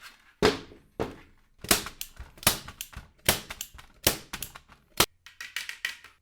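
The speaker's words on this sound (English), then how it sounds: "Let's go ahead and staple these." Printed essay pages are stapled together, about ten sharp, distinct thunks and clacks spaced irregularly through a quiet room.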